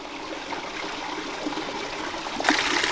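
Creek water flowing and swirling in an eddy, a steady close trickling and gurgling rush that grows louder and splashier near the end, with no voices.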